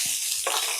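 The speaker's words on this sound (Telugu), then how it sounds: "ఇది కాసేపు వేగనిద్దాము." Mustard seeds, cumin, onion and green chilies sizzle in a hot pan with a brief steady hiss that swells in a second burst as the spices are stirred, close and without talk.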